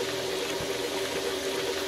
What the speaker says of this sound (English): Start this up. It's running. We've got water.